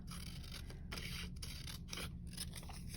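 Paper scissors snip through a paper sewing pattern in a steady series of close crisp cuts and slicing rasps, with a low hum running underneath and no voices.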